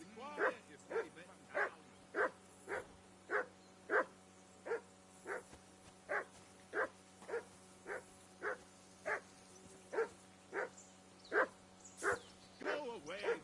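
A dog in Kingdom Come: Deliverance 2 barks about twenty times in a steady, evenly spaced rhythm, each bark fairly close and moderate in level, over a low constant background hum.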